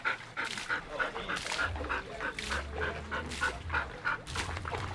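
A dog on a played video yips and barks weakly in a rapid series of short repeated calls, with panting and whimpering mixed in against a background murmur.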